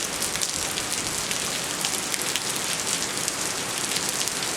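Heavy rain from Hurricane Irene pours steadily onto a parking lot, a dense, unbroken hiss of drops with no thunder or voices, loud and continuous throughout.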